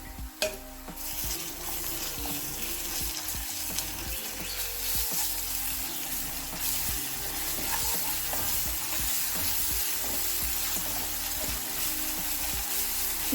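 Freshly pounded ginger-garlic paste frying in a pan for fish curry, a continuous sizzle with scraping stirs and occasional utensil clinks, growing slightly louder over time.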